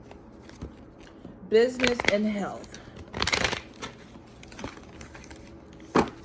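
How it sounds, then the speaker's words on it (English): Tarot cards are riffled and shuffled in brief bursts, one clear flurry midway and a soft snap near the end, while someone talks over them. "We're gonna shuffle these cards and do love,"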